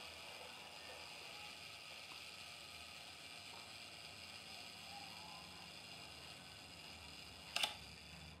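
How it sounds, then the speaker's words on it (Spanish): Quiet mechanical whirring of a Zeiss Ikon Ikonta 35 camera's self-timer runs for several seconds in a hushed room, then a single sharp shutter click snaps near the end. "Corre el temporizador, dispara luego el obturador."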